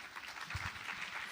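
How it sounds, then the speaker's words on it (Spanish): Audience applause at a Spanish-language lecture for the invited doctor, a brief, steady wash of clapping from a crowd in a hall with no voices over it. "un caluroso aplauso para la doctora"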